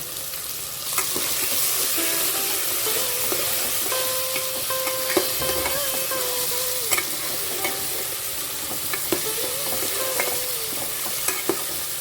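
Ginger, garlic and cumin seeds fry in oil in a pan for a vegetable biryani, giving a steady close sizzle throughout, with scattered scrapes and taps of a spoon stirring.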